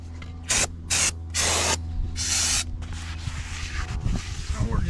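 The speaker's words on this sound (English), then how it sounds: "you want to use some sort of brake parts cleaner" Brake parts cleaner sprays onto the inside of a Ford F250 drum brake in four loud, close hissing bursts. A voice talks quietly under and between the bursts.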